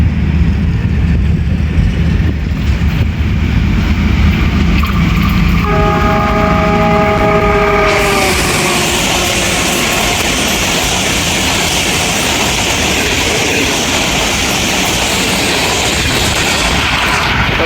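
Jaffar Express with locomotive ZC20 6426 passing at speed, a loud horn blast sounding for a few seconds before the rushing roar and rumble of the train dominate steadily up close.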